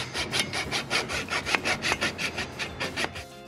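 A handsaw cuts a Tides Marine sail track to length during an Alberg 30 sailboat refit. Steady back-and-forth strokes, about a dozen of them, sound close and even in rhythm, with no talking.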